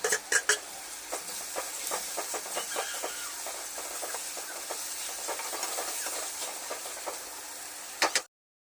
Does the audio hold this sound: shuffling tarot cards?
no